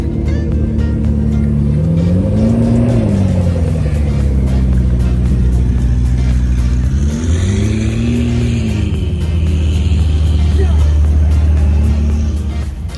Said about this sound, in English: Some R35 GTRs leaving the scene, and you're going to see a McLaren 675 LT behind them